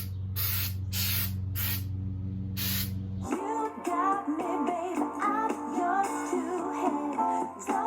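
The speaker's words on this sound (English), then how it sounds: "But I'm going to go ahead and start spraying these." Pebble stone-textured spray paint hisses onto vintage figurines in several loud bursts, close up and alone, before music takes over.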